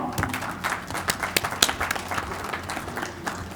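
An audience claps to welcome Pakistan's federal information minister at a ceremony, steady, dense applause from a crowd throughout, moderately loud with no speech over it.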